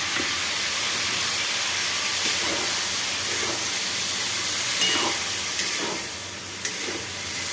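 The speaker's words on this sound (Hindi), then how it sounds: "इसको जो है सो अच्छा से फ्राई कर देते हैं।" A spice paste of turmeric, chili, garlic, onion and tomato fries in a pan, producing a continuous broad hiss and sizzle with faint crackles that eases slightly toward the end.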